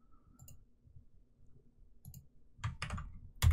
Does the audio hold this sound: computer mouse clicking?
yes